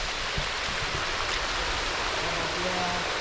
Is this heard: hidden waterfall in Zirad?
yes